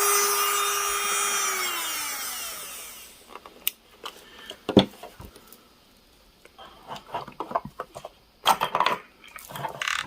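A Makartt or iGel Beauty nail e-file spins down from a steady high whine at 35,000 RPM, then gives soft grinding taps and scraping bursts against a nail, near and moderately loud.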